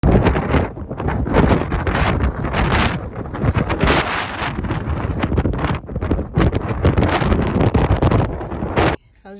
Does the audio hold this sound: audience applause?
no